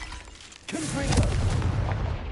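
Confringo fire spell in Hogwarts Legacy bursting into a rumbling boom that swells after a brief pause and rolls on loudly, with a voice calling out briefly.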